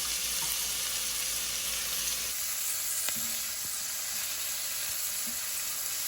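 Onions, carrots and celery sizzle steadily in a pan as they soften, a constant close frying hiss with a few faint clinks and stirring scrapes.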